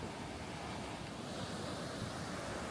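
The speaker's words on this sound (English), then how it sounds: "we've had some ginormous waves" Large ocean waves roll onto Maspalomas beach on Gran Canaria, producing a continuous broad roar of surf mixed with wind buffeting the microphone, steady and moderately loud, with no voices.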